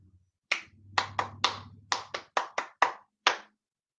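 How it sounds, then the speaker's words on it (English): Hands clapping a rhythm during a children's music lesson, ten sharp close claps in an uneven pattern over a faint low hum, with no talking. "Clap the beat, then clap the rhythm and don't say the words."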